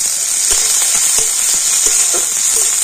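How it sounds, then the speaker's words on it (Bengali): Onion and green chillies fry in hot oil, a loud continuous sizzle broken by a few scraping clicks of stirring, with nobody speaking. "আর এবার একটু সবকিছু ভেজে নেবো"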